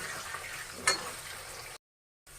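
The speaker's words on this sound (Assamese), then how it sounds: "অলপ ৰঙচুৱা হোৱাকৈ আলুখিনি ফ্ৰাই কৰি ল'ম।" Potatoes frying in a pan while cooking pork with mustard greens, a faint steady sizzle with one brief stir or clink near the start, then a short silence before the sizzling resumes.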